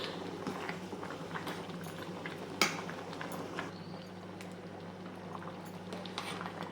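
A pot of jackfruit and coconut erissery simmers quietly as its water cooks down, giving a soft, steady bubbling with faint popping. A single sharp clink from a utensil cuts through partway.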